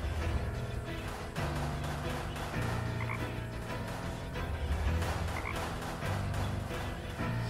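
Toads in the adventure game Deponia croak in a dense, continuous chorus, steady and fairly loud throughout with rhythmic pulsing layers.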